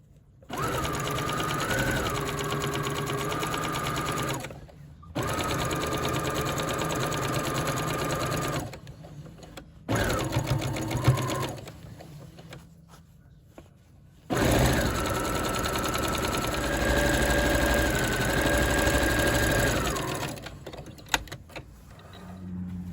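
Sewing machine stitching the side seams of a coat lining, running in several long steady bursts separated by short pauses, close and clear with no talking.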